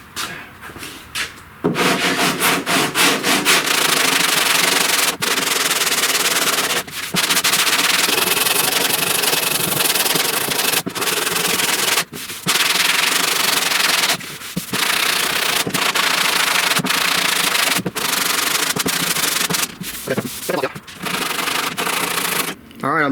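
Body filler on a 1969 Chevrolet C10 door is block sanded with steady back-and-forth rubbing strokes, close and loud, broken by a few short pauses between passes.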